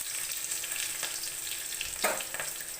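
Five-spice seeds (panch phoron) fry in hot oil for a potol (pointed gourd) dish, giving a soft, steady sizzle with a couple of brief clinks and stirring sounds.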